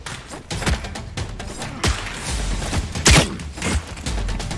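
Gunshots in The Cycle: Frontier during a firefight ending in a headshot, several sharp loud cracks and thumps spaced irregularly over a dull rumbling background.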